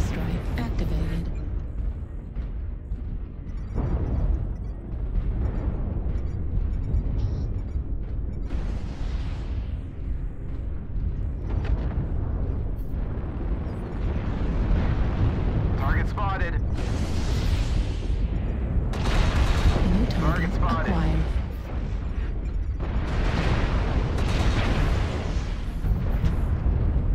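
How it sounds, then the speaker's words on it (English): Artillery strike explosions in MechWarrior Online rumble as repeated deep booms and bursts over continuous dense battle noise and mechanical din, loud throughout the stretch. "Artillery strike activated."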